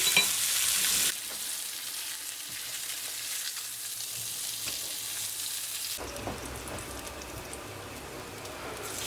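Salmon pieces frying in a pan, a loud, continuous sizzle with stirring and turning scrapes; the hiss drops at one point and then resumes more coarsely, with no talk.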